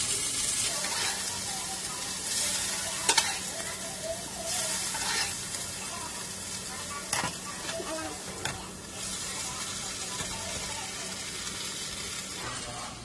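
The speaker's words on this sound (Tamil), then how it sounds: "கொஞ்சம் மெதுவாக மிக்ஸ் பண்ணுங்க. இது ரொம்ப ஃப்ராஜைல், ஸோ உடையாம பார்த்துக்கணும்." Alfredo pasta being gently stirred in a pan over low flame, a continuous soft sizzle and wet scraping with occasional utensil taps throughout.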